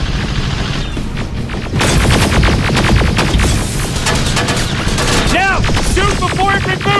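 Gunfire in the video game Terminator: Resistance, loud dense bursts of rapid shots with heavy booms, a sustained barrage that thickens partway through, with chirpy synthetic electronic sounds near the end.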